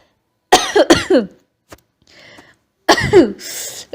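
Two separate bursts of harsh coughing, close and loud, with a faint rustle between them and a trailing cough at the end, outdoors in a vegetable field.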